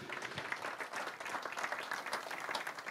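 Audience applause at a regional election round table as a guest walks onto the stage, even steady clapping from a moderately distant crowd.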